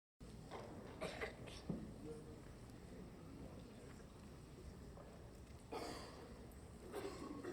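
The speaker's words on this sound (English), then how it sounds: "Classic coughs." Scattered coughs rise now and then from a quiet classroom scene in an audio drama, set against a low, steady room hum.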